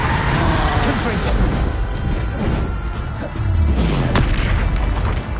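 Fire-blast explosions from the Confringo spell in Hogwarts Legacy on PS5, loud booming bursts and crashes with rumbling low end, dense and continuous alongside other game effects and a voice speaking.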